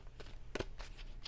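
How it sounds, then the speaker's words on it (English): An oracle card deck riffles and snaps in several quick shuffling bursts, close and fairly quiet, with no voices. "Two more shuffles, please."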